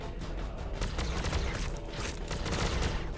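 Dense gunfire in the Warhammer 40,000: Battlesector strategy game, a continuous loud barrage of overlapping shots and bursts that rattles on without pause.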